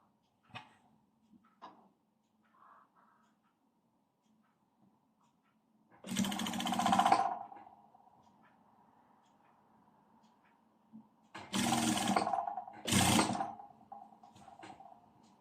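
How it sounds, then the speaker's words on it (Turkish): A sewing machine stitches bias binding onto a dress collar in a quiet room, running in two short bursts after long stretches of near silence, with faint clicks and handling noises in between. "şöyle ens ortasından 1-2 santim ileriden dikmeye başlıyorum yakamızı"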